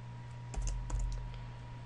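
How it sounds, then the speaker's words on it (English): Brief burst of keystrokes on a computer keyboard while writing VB.NET code in Visual Studio 2010, a few quick soft clicks close up over a faint steady hum. "Typing out all this code does get a little confusing."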